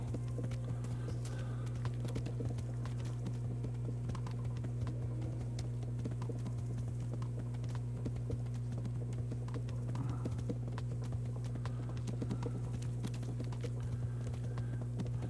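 Rhythmic clip-clop of horse hooves in a video game at a steady trotting pace over a constant low hum, with no talking.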